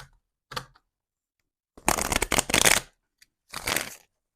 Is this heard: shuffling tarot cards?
yes